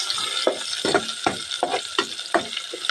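Garlic and onion sautéing in a pan for ginisang monggo with crab and vegetables: a steady close sizzle broken by repeated scraping stirs at a brisk, uneven rhythm.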